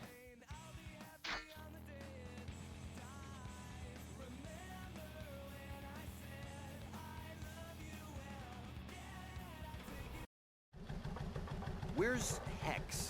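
In the American Chopper video game, a motorcycle engine drones steadily at low revs with a throbbing, buzzing tone and rising revs near the end, broken by a brief silent gap, with talk over it.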